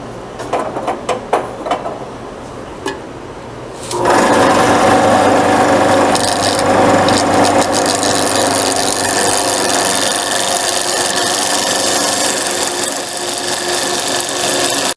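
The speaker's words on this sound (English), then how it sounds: "take my parting tool and size that center down to down to that dimension right there" A parting tool cutting into spinning wood on a lathe, a loud continuous scraping whine that starts abruptly after a few light taps and holds steady to the end.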